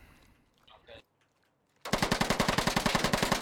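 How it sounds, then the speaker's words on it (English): A light machine gun fires a steady, rapid stream of loud, close shots in the military shooter game Squad, coming in abruptly after a few quiet moments of faint background noise. "I fucking love the MG in close quarters, dude."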